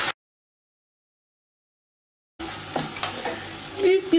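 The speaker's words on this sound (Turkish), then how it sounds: "1 yemek kaşığını çok doldurmadan domates salçası. Bunları da 2-3 dakika boyunca kavuracağım." Tomato paste sautéing in a pan, a soft sizzle and stirring scrapes heard after a long silent gap, moderately loud and close.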